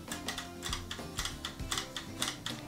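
The rudder mechanism of a LEGO Technic Ocean Explorer 42064 set makes rapid, steady plastic clicking, faint and close, over a low background hum.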